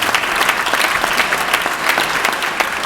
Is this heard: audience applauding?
yes